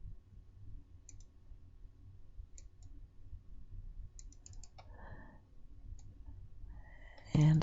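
Mouse clicks in Electric Quilt quilt-design software, with a few crisp, quiet double-clicks spaced apart over a low hum, followed by a brief louder shuffle near the end.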